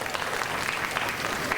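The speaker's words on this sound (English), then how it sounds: "could we have a nice round of applause" Brief burst of audience applause, a dense steady patter of many hands clapping together.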